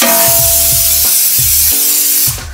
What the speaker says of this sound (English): spray my pan with a little bit of olive oil